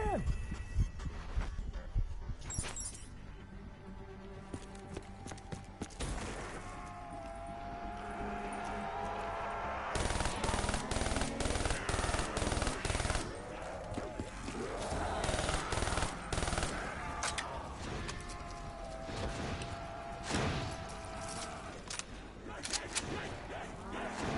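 Call of Duty Black Ops 3 gunfire in rapid automatic bursts and single shots over busy game sound effects, loud and dense, with a player's voice talking over it at times.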